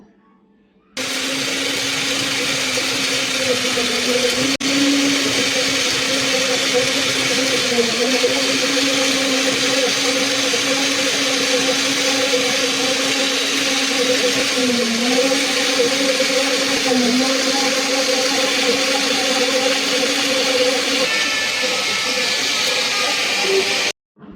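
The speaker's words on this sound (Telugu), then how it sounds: "ఇవన్నీ మిక్సీ పట్టుకుందాము." A mixer grinder whirs loudly and steadily for about twenty seconds grinding garlic cloves and peppercorns, its motor pitch dipping briefly a few times as the load shifts, then cuts off.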